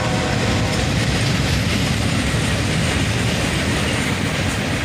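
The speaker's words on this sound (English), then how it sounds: "Another manifest train," A southbound manifest freight train rolls past close by, a dense continuous rumble of wheels and cars with steady clatter and no pauses.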